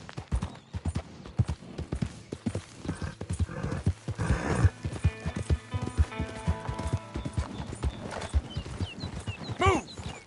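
Horse in Red Dead Redemption 2, hooves clip-clopping in a brisk steady rhythm close by, with a whinny rising near the end over the continuing hoofbeats.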